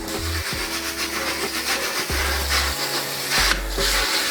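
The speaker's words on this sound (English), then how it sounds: "I'll give that a little bit of a scrub as well" A spatula is scrubbed to remove stubborn paint, giving steady rough rubbing strokes at close range under a low background hum, with a few brief pauses between passes.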